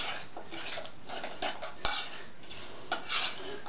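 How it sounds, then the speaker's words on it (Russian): Pear fritter batter being stirred in a bowl, soft scraping and light clinks of a utensil against the dish, close and quiet, with a sharper knock partway through. "Так мы мешаем и подсыпаем"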